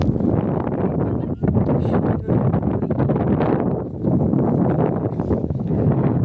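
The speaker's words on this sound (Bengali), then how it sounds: "কি হাওয়া" Strong wind blowing outdoors, a loud continuous buffeting roar against the microphone that swells and dips without pause, close and dominating with no clear speech.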